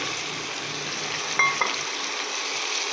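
Cut chicken pieces sizzle steadily in a hot pan with a broad, even frying hiss, with a couple of faint scraping stir sounds midway, quiet and continuous with no talking.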